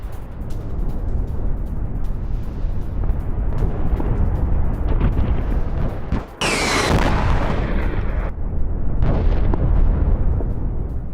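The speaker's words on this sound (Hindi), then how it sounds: "गैस पाइपलाइन में ब्लास्ट और धमाके के बाद लगी आग" Gas pipeline blast in Omsk, Russia: a sustained roar of burning gas with rumbling, and a sharp loud burst near the middle that flares bright and fades into continued roaring.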